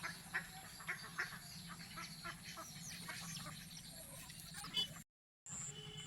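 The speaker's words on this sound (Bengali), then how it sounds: "তবে এত বৃষ্টিতেও হাঁসগুলো কিন্তু খুব আনন্দে আছে" Ducks quack in short repeated calls at a flooded rainy-day spot, moderately close, over a steady wash of rain noise; a brief dropout cuts the sound near the end.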